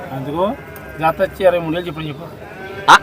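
Sheep bleat at a busy village market, several wavering calls close by and overlapping, with a sharp noise burst near the end.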